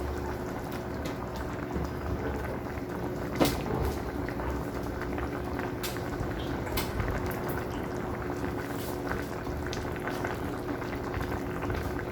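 A fruit mixture simmers in a pot, a steady close bubbling with frequent small pops and crackles running the whole way through, and no voices.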